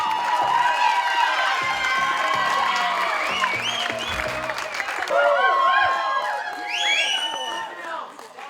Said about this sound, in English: Give them a huge round of applause, ladies and gentlemen